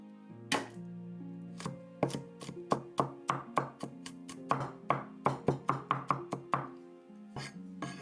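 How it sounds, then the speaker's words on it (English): A knife chops garlic on a board in crisp, close knocks, first a few spaced strokes, then a fast, steady run of cuts, over faint background hum with no talking. "Chop 20 grams of garlic."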